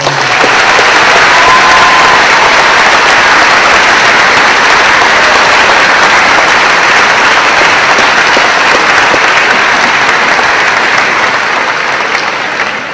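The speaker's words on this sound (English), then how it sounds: "If we could just give them one more round of applause." An audience at a school awards assembly applauds loudly, the dense clapping holding steady for the whole stretch and easing off slightly at the very end.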